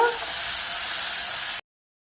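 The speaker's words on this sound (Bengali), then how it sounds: "মশলাকে ভালো করে কষে নেব।" Spice masala for a chicken dish sautéing in a pan, a steady broadband sizzle and hiss that holds evenly for about a second and a half and then cuts off abruptly into silence.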